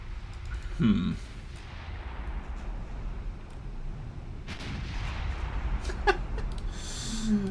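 Warship guns in Ultimate Admiral Dreadnoughts boom across a low rumbling battle backdrop, with a heavy blast near the start and further scattered thuds and cracks later, all under a steady roar.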